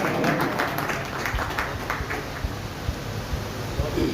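Steady applause from a crowd, a dense wash of clapping that carries on evenly throughout.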